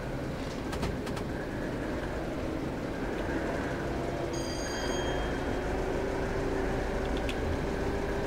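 A Class 73 electro-diesel locomotive runs along the Brighton Main Line in Train Simulator, a steady, moderately quiet rolling rumble with faint bird cooing and chirps over it.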